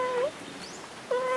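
A farmyard cat meows twice, a near, clear call at the start and another after a short pause, each a rising then falling cry.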